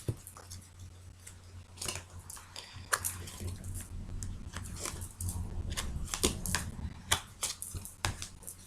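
Tarot cards being shuffled by hand, a run of close, papery riffles and flicks repeating irregularly over a low steady hum, with occasional soft sounds of someone nearby.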